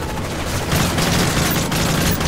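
Rapid, loud gunfire in Call of Duty: Modern Warfare 3 forms a dense, sustained burst of overlapping shots with a few sharper cracks standing out.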